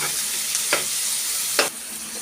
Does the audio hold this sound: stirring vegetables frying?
yes